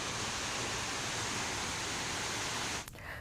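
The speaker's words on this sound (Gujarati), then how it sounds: "તો ડુંગરના પગથિયા પર કઈ રીતે પાણીનો ધોધ વહી રહ્યો છે તે આપ જોઈ શકો છો।" After heavy rain at Pavagadh, rainwater rushes down the hill steps in a loud, steady torrent that roars without a break before dipping slightly near the end.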